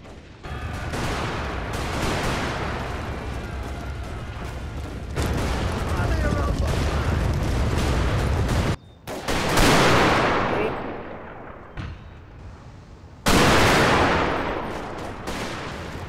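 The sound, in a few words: rifle and artillery fire, British vs Zulu battle, Total War video game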